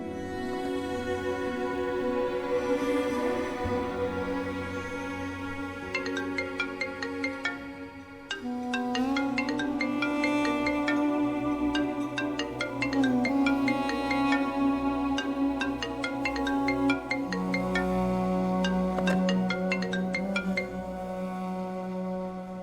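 A melodic electronic ringtone plays on and on, loud and steady, with no one speaking over it.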